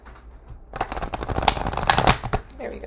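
Tarot cards are shuffled by hand in a rapid riffling flutter after a quiet start, close and crisp with brief snapping bursts, and a voice can be heard faintly.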